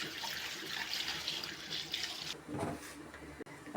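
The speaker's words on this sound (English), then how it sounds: "Make sure you wash them very well because they contain a lot of sand." Green vegetables washed under running tap water, a steady rushing stream into a sink that breaks off partway into softer splashing and handling noises, close and fairly quiet.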